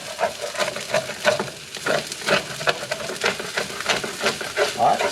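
Day-old rice being stir-fried with shrimp, broccoli and onion, a steady sizzle with scraping stirs of a utensil against the pan, close and continuous.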